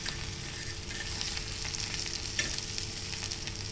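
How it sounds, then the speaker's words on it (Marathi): Pieces of bitter gourd fry in a pan with a steady, fairly close sizzle and light stirring scrapes. A faint click stands out partway through, and no one speaks. "आता हे पाच सहा मिनटं आपण फ्राय करून घेऊया"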